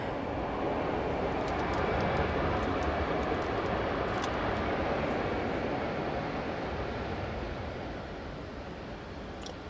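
A passenger aircraft rumbles past at Manchester Airport during Storm Floris, a broad steady roar that swells slightly and then eases, with wind noise and no talk over it.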